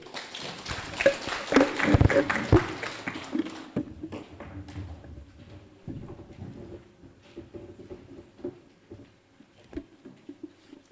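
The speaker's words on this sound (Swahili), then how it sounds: "Tumpigie makofi." An audience at a delegates meeting of St Francis of Assisi Catholic Church in Ruiru applauds, starting as loud, dense clapping that thins into scattered claps and fades to quiet.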